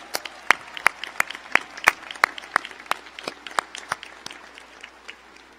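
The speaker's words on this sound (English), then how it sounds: "Please join me in giving them a round of applause." Applause at the Central Connecticut State University 2023 winter commencement ceremony, sparse distinct claps from a modest audience, echoing in a large hall rather than a dense roar.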